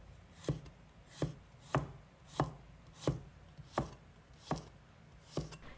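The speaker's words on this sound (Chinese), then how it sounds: "取一把去皮大蒜切成薄片" A knife slices peeled garlic cloves into thin pieces on a board, with about ten sharp, evenly spaced chopping taps in a steady rhythm, close and clear, with no speech.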